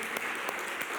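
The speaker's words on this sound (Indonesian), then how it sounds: "Wah, tepuk tangan dulu buat mereka." Congregation in a church clapping for the children, a dense, steady wash of many hands lasting about a second.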